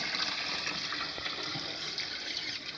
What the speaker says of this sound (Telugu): ఇప్పుడు ఇందులో మనం ముందుగా తీసుకున్న 10 లీటర్స్ వాటర్ అయితే వేసుకోవాలి